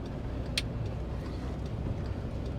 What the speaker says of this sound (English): I wish that car would go.